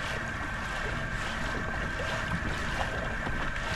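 Steady wind rushes over a fishing boat out on the water during spring striped bass jigging, a constant low roar with a faint engine-like hum beneath.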